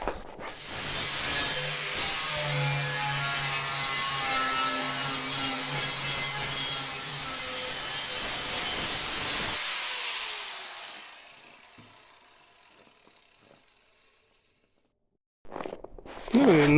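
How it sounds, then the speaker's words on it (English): A small power sander works the ends of a barrel for a homemade rocket stove water heater, giving a loud, steady whir for about ten seconds before it winds down to near silence, followed by a brief burst of noise at the end. "I'll have to use a little sander for the ends"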